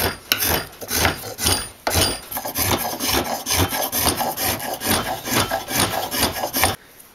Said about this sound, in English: I'm going to use my draw knife and spoke shave to take material out